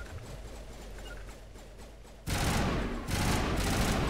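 Video game gunfire from Mass Effect 1 Legendary erupts as crossfire from Geth and turrets. A quieter stretch of scattered shots gives way to a loud, dense fusillade of rapid bursts that continues to the end.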